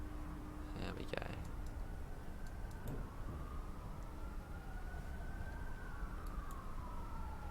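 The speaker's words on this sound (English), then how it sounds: "Sirens blaring everywhere." Sirens wail through a London station scene in the Train Simulator Classic game, approaching a Class 456 train arriving at Victoria: sweeping tones rise and fall in the background, fairly faint, with occasional clicks and a low rumble beneath.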